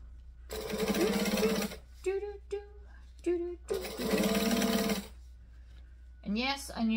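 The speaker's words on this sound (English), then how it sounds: "We're going to stitch and back stitch because I like to lock things in." A sewing machine stitches forward and back through vinyl in two long loud runs, separated and followed by bursts of talking nearby.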